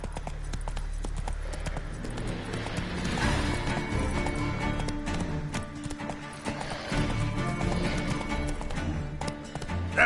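Geralt's horse Roach trots in The Witcher 3, a steady run of hoof clip-clops with a brief whinny, over game music and ambience.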